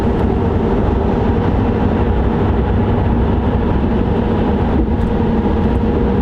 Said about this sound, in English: You can definitely hear the tires more at this speed.